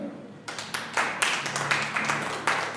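A church congregation breaks into applause after a preacher's call, broadband clapping starting about half a second in and swelling in repeated waves, fairly close and steady to the end.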